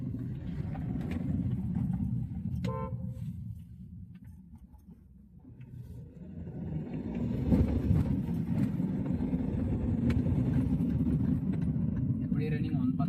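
A high-mileage Hyundai diesel car with about 342,000 km on it runs through a pickup test. A low engine rumble dips, then swells as it accelerates and holds a strong, steady roar, with a few faint clicks over the top.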